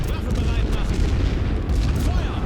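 Rumbling artillery explosions and scattered gunfire from the World War I strategy game The Great War: Western Front, a dense, continuous loud barrage of booms with no pauses, some speech mixed in.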